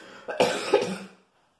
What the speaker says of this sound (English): I'm also recovering from a cold, so I might just end up coughing a lot during this video